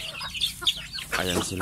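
Chickens cluck close by during morning feeding on a small farm, a brief burst of bird calls with someone talking over them.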